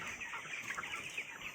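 Chickens on a livestock farm cluck and chatter in a continuous, overlapping flock sound, moderately distant and fairly quiet, with no voices over it.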